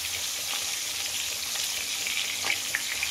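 Tomatoes and onions fry in a pan with a continuous soft sizzle, a few light clicks near the end, no one talking.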